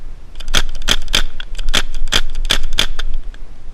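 An Azodin KP3 paintball gun with an auto-trigger fires a quick run of about ten sharp, evenly spaced pops with a brief pause in the middle, loud and close.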